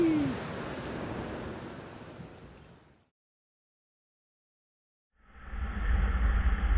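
Heavy rain pours down in Switzerland, a dense, loud, steady wash of noise that fades out into silence, then returns abruptly as a full roaring downpour, with no voices.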